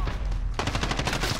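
Close, loud gunshots in a Call of Duty: Modern Warfare multiplayer match, starting after a brief quieter moment and continuing as a rapid string of sharp reports.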